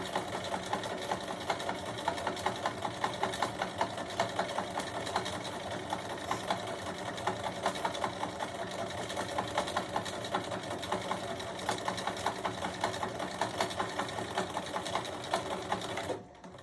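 A sewing machine runs steadily, top stitching a quilted mug rug with fast, even needle chatter and a motor hum that continue nearly unbroken for the whole stretch before cutting off at the end.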